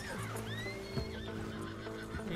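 Horse whinnies with rising, wavering cries over steady hoof clatter and busy Red Dead Redemption 2 game ambience, the neigh repeating and close.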